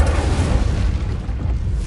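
An Incendio fire spell blasts in a Hogwarts wizarding video game, a loud, continuous roaring burst of flame and booming energy that fills the whole moment with dense rumbling noise.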